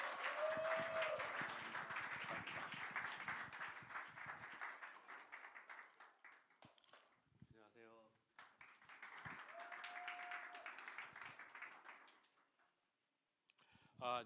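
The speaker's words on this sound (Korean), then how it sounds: "우리 간사님 앞으로 나오실 때 큰 따뜻한 환영의 박수로 맞이하도록 하겠습니다" Church congregation clapping in welcome, two waves of sustained applause that swell, thin to a few scattered claps between them, then die away.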